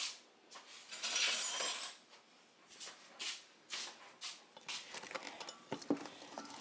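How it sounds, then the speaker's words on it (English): Potatoes and onions tossed with olive oil and spices in a skillet give soft, irregular scraping and clinking patter, fairly quiet, with no voices. "And now we're putting in our olive oil. And I'm going to mix it up, of course."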